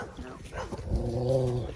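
A dog gives a short bark followed by a sustained low, throaty growl lasting about a second, close and fairly loud.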